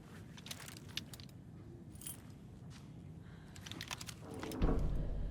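A bunch of keys jangling as they are handed over in the video game Alan Wake 2, a run of light metallic clinks and rattles over several seconds ending in a brief louder clatter, with no voices.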